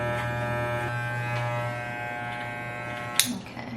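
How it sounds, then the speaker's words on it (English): A Wahl detail trimmer with no guard runs close by in a steady electric buzz, ending in a sharp click near the close. "Wall detail trimmer looks like this. I'm gonna have no guard with it all the way closed."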